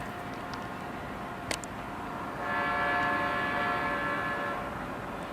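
A CN-led freight locomotive sounds its chime horn from some distance, a steady sustained blast that swells in partway through over constant rail and wind rumble.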